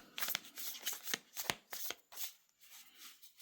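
Tarot cards being shuffled by hand in a quick series of crisp riffling snaps and slaps, close and fairly loud with no talking.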